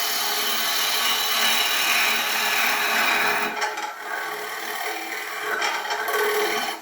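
A woodturning tool trims the tenon on a bowl spinning on a lathe, producing a loud, steady scraping hiss that dips briefly partway through and then resumes.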